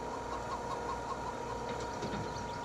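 Soft clucking from a flock of about 120 chickens in the video game Farming Simulator 22, over a low, steady engine-like drone, with no one speaking.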